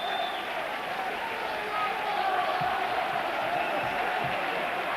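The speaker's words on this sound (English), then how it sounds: "that certainly brought the crowd to life." Rugby league crowd at a Workington Town match cheers and claps after a try, a steady wash of applause and voices at moderate distance with no single voice standing out.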